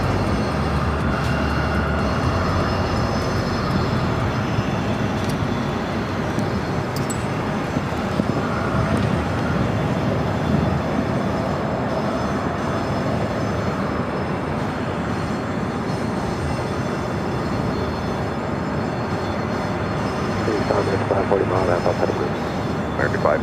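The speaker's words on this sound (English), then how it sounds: "This is American Airlines Flight 1067, arriving from Sacramento on an Airbus A319." An American Airlines Airbus A319 arrives at Phoenix airport, its jet engine roar a steady broad rumble that fills the scene at a moderate distance, with a voice speaking intermittently over it.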